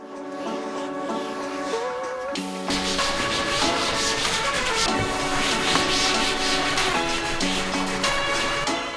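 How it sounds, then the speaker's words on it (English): A GYEON wipe rubs vinyl cleaner off plastic car trim, making a loud, continuous close-up rubbing and swishing sound. Music plays throughout. "I will wipe off my vinyl cleaner with a GYEON bald wipe"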